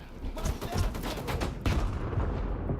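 Grenade blast and gunfire in S.T.A.L.K.E.R. 2, a dense run of loud overlapping shots and booms, with a heavier burst partway through before the noise trails off.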